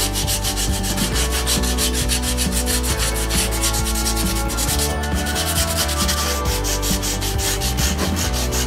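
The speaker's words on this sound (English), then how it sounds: "I'm just gonna sand it a little bit so that way I can continue with the next step" A sheet of sandpaper rubs rapidly back and forth over a drywall patch, giving a loud, close, continuous rasping scratch with a quick, even rhythm.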